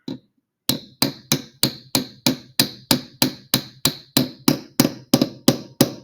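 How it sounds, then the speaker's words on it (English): A hammer taps an axle into a wheel in a steady rhythm, about fifteen sharp, ringing metal strikes close by, with no talking. "So you're just going to hit it down lightly and just tap."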